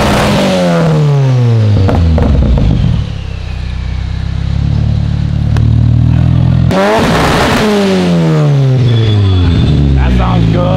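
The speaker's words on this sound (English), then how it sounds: "Car sounds great." A project car's engine revs hard on its first drive, rising and falling in loud repeated sweeps, close by, with people's voices breaking in over it.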